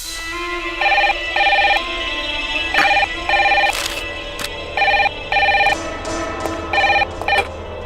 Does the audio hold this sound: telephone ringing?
yes